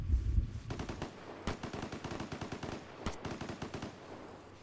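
Rapid bursts of video game gunfire in Vigor on Nintendo Switch crackle in quick succession, some shots sharper and closer, with short pauses between volleys over a low background rumble.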